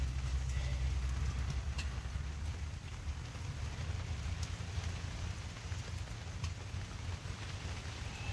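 Heavy winter rain falls steadily in a dense, hissing wash with a low rumble underneath, continuous and fairly distant, no voices over it.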